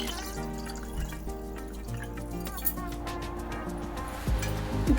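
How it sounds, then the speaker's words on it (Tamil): Water trickling and splashing into a metal pot of rice over a steady low hum, with a light drip-like texture throughout. "ஒன்றரை கப் அரிசிக்கு 3 கப் தண்ணி ஊற்றிக்கலாம்."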